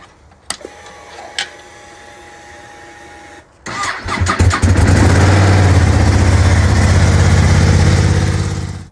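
A Ducati Streetfighter V2 motorcycle starts up on a cold 2 °C morning after standing unplugged for two days: a short crank, then the engine catches and settles into a loud, steady, close idle.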